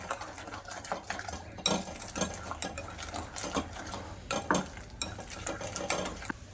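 Rice papad batter with chili flakes and spices is stirred in a bowl, giving quiet, irregular scraping and wet stirring strokes close by, with no talk.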